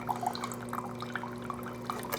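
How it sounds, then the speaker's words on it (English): Remaining liquid drains out of a Ninja slushie maker in a quick irregular patter of drips and trickles over a steady low machine hum. "So I'm just gonna drain out what remains in there"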